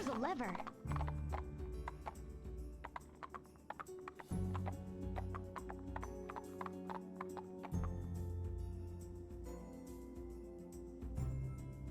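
Rhythmic horse hoof clip-clops from the Barbie Horse Adventures: Wild Horse Rescue game on Xbox, steady and close, layered with game music and a talking voice.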